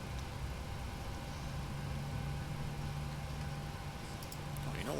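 In the Prepar3D flight simulator, engine number 2 of a PMDG 737-800 airliner spools up, giving a steady broadband roar with a low droning hum that holds evenly throughout.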